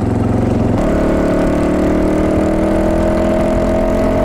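A loud Fantic 450 Rally motorcycle engine idles roughly and steadily, its pitch settling after a brief change near the start.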